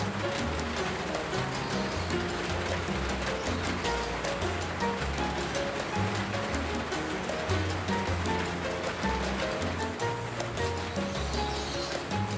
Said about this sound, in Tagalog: Pasensya na po kayo sa naririnig yung patak ng ulan.